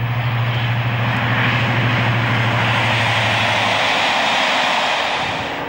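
Class 55 Deltic locomotive Ballymoss at Thirsk in 1976 hauling the northbound Scotsman, a loud, close, droning diesel roar with a steady low hum that drops away toward the end.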